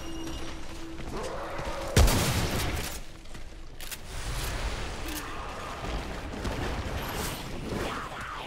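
Gunfire in the video game Remnant: From the Ashes, a sharp loud shot standing out over a busy game soundscape, followed by quieter scattered bursts and effects.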